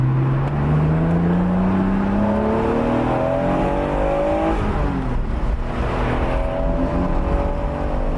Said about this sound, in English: All right, a little highway acceleration for you.